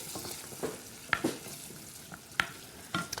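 Garlic frying quietly in a pan, a soft steady sizzle broken by a few sharp clinks and scrapes of stirring utensils, faint and close with no talk.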